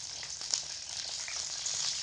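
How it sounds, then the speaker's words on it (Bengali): Eggplant pieces frying in hot mustard oil over medium heat make a soft, steady sizzle with faint crackles, heard alone and close. "গরম তেলের মধ্যে বেগুনের পিসগুলোকে দিয়ে ভেজে নেব"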